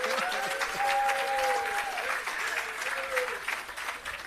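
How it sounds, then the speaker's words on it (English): A crowd applauds for the prime minister at the official opening of an agro park, steady clapping across the whole span with a tonal whistle or feedback line audible over it. "Please give him another round of applause"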